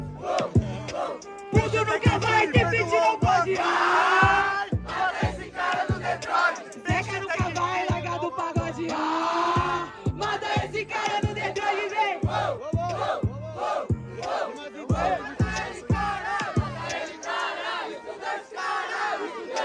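A crowd at a Brazilian student rap battle shouts and chants in loud rhythmic bursts with sharp pauses, many voices roaring together close by for the whole stretch.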